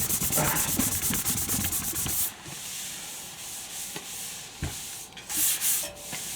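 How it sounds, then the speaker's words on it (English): Hand sanding of a Yamaha Virago 250 motorcycle part, rubbing through paint to bare metal, with steady rhythmic back-and-forth scraping strokes, close and continuous, louder at first and then lighter, uneven passes. "I'm just rubbing and rubbing and rubbing"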